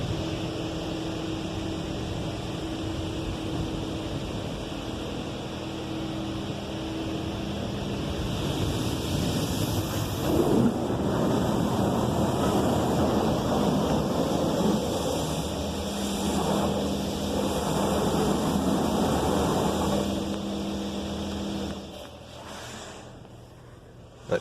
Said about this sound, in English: It's doing a high pressure rinse now.